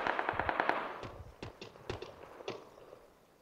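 Distant gunfire in the battle royale game PUBG: a quick automatic burst followed by several spaced single shots, fairly faint and fading toward the end.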